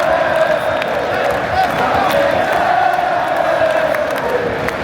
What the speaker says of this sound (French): La sortie sous applaudissements et l'acclamation pour Stassin qui sort à la 89e